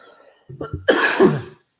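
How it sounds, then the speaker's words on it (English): One harsh, close cough erupts after a brief vocal sound, loud and raspy before trailing off. "I got a cough all of a sudden."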